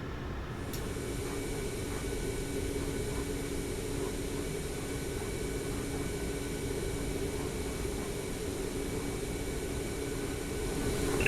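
A Boeing 737 MAX 8 in Microsoft Flight Simulator 2024 rolls along the taxiway, a steady low engine drone and broadband hum holding level throughout without any voices.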